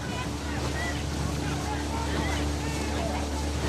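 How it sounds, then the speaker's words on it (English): Two rowing crews race side by side on the Thames at Henley, their oars and hulls churning the water in a steady wash, heard amid wind buffeting the microphone and a continuous low engine drone. "You can really hear the noise from both boats there. They're just churning along."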